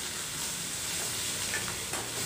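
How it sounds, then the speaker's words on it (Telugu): Bitter gourd masala curry sizzles in a pan as it is stirred, a steady close hiss of frying with light scraping, moderately quiet and without talk. "ఇలా కొద్దిగా ఫ్రై అయ్యేదాకా ఫ్రై చేసుకోవాలి. మధ్య మధ్యలో కలుపుకుంటూ ఫ్రై చేసుకోవాలి"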